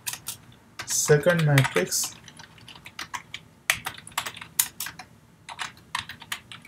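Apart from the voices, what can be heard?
typing C++ code on a computer keyboard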